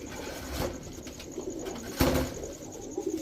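Pakistani teddy pigeons cooing softly in a loft, low throaty coos repeating over a steady background hum, with one louder thump near the middle and no voices.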